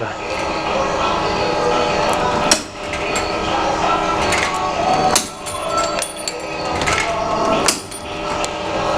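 Homemade shears built from scrap metal cut through 1.5 mm sheet steel, giving loud metallic clanks and crunching snips at a few points over a continuous clattering workshop din.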